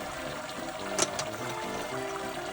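Wort drains from a lifted grain basket during home brewing, a soft, steady trickle and pour of liquid running back into the kettle, faint and continuous.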